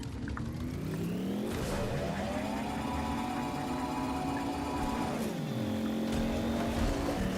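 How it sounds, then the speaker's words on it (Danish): A truck driven in the Fortnite video game, its engine droning loudly and steadily with the pitch climbing and dropping through gear shifts, alone without any talking. "Men kan jeg køre den her lastbil?"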